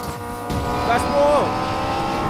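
Engine revs climbing through gears as a car accelerates in Need for Speed Payback, a steady loud drone with rising whine, under a voice speaking.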